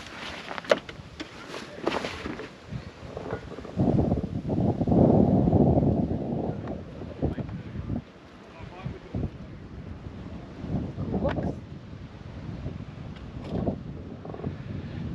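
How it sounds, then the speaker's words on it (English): Strong wind at Pangbourne buffets the microphone in gusts, roaring and rumbling throughout, with faint voices mixed in. "Yeah, it is windy."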